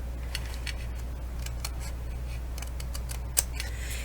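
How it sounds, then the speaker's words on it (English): Scissors snip wedges from the tabs of a flat-fold cardstock gift box, making a series of crisp, close clicks over a steady low hum. "we're just going to cut out a small wedge"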